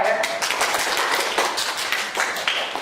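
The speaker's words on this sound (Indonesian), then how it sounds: "Jadi tepuk tangan untuk kita semua ya." Classroom group of students clapping together after presentations, a short burst of close, uneven hand claps with some chatter mixed in.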